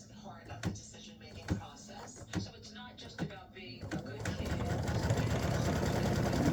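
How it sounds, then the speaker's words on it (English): An embroidery machine tacks down a color stop on an in-the-hoop mug rug. Several spaced mechanical thumps come first, then a steady, louder whirring stitching run. "we're going to stitch color stop number 20, and it's going to tack this down"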